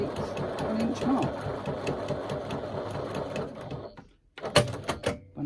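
Close, steady stitching from a sewing machine runs straight across fabric for about four seconds, then stops abruptly, followed by a few clicks and handling sounds.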